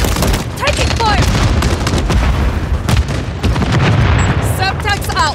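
Dense gunfire rattles through a Call of Duty Modern Warfare 3 (2023) multiplayer match, repeated rapid shots and booming impacts overlapping near and loud, with game voice callouts and chatter beneath the firefight.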